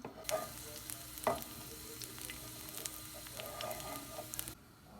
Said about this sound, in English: I'm just gonna saute these up for like 30 seconds to a minute, to make sure that they get a little flavorful